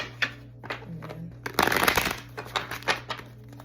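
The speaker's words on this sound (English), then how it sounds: "One more shuffle, quick shuffle" A deck of cards is shuffled close up, a few light riffles and taps building to one loud, rapid riffle burst, then softer settling shuffles.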